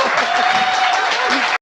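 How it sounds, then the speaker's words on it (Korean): An audience bursts into loud, close, continuous clapping that cuts off abruptly, with a voice briefly audible beneath it. "박수 부탁드립니다"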